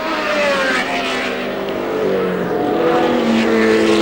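A 1970 British Grand Prix race car screams past close by, its high-revving engine note sweeping and shifting pitch for about four seconds at steady loudness.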